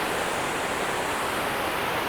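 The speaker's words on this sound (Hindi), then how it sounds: "वो छोटा झरना आ रहा है," A small waterfall on Sach Pass gives a loud, steady, close rush of falling water with no pauses and no voices.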